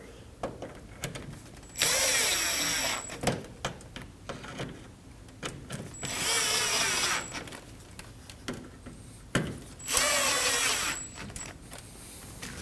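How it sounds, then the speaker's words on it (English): A power tool drives screws through a grille mounting bracket into the plastic front bumper of a 2015-2024 Ford Edge, three close whirring bursts of a few seconds each, separated by quieter handling clicks and clunks. "we'll snug down the screws"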